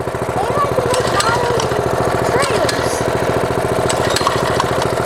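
A small mini bike engine running loud and close with a steady rapid chugging putter, continuous throughout, no talk.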